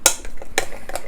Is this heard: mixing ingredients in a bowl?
yes